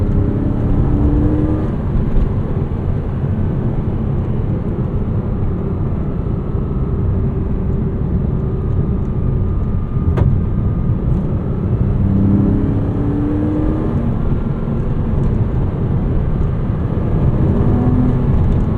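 A 2009 Porsche Cayman S engine drones steadily from inside the cabin, rising and falling in pitch as it revs high through the gears on a twisty road.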